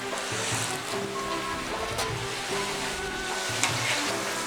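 Spiced chicken, two whole birds at once, deep frying in hot oil in a very large wok, a steady close sizzle and bubbling hiss that runs continuously with faint clinks on top, no talk.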